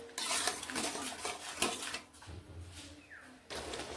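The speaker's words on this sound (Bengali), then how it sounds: "চিনি এভাবে মিশিয়ে নিচ্ছি" Metal spoon scraping and clinking against a pan while sugar is stirred into a Bengali-style mango leather chutney; the scrapes come in irregular bursts, close and fairly quiet, with short pauses between strokes.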